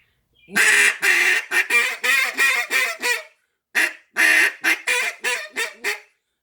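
A handheld duck call imitates duck quacks in two bursts of rapid, loud, raspy quacks, the first a string of about eight calls and the second about six, descending in rhythm, close and alone.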